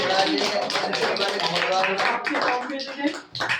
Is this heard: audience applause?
yes